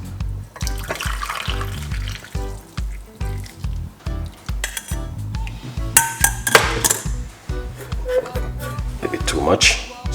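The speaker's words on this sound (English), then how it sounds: "Pour it out." Liquid poured into a cup, splashing and trickling with clinks of the cup, heard under a person talking, with pulsing rhythmic sounds and louder splashes toward the end.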